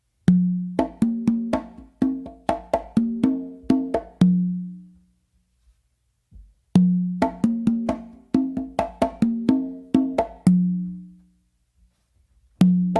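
A full tumbao plays on conga and tumba: a busy run of open tones, slaps and lighter touches ends in a deep ringing low drum, then repeats after a short pause, close and solo.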